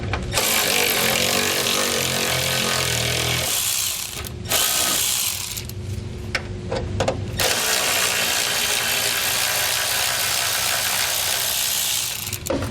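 A power tool whirs loudly and continuously in long runs, broken by short pauses and a few clinks and ratcheting sounds, close by, while removing 10mm bolts from a 2014 Ram 2500's cross member.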